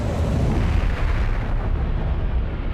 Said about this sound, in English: The combination of heat and pressure invade the falling asteroid, causing it to blow up.